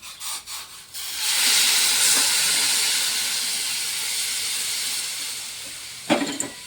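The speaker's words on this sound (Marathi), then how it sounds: "आता हे उकळलेलं पाणी आपण याच्यामध्ये टाकणार" Boiled water is poured into a hot pan of vegetables, setting off a loud, sustained sizzling hiss of steam that holds for several seconds and then fades, with a brief clatter near the end.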